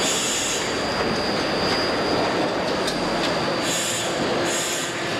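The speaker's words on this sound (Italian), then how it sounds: "con le prime prove del tram dopo i lunghi lavori per il ripristino della linea" A tram runs test trials on the restored Opicina line in Trieste, a loud, continuous rumble of wheels on rails with squealing and rattling, close by and without speech.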